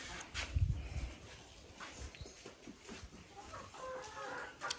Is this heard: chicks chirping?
yes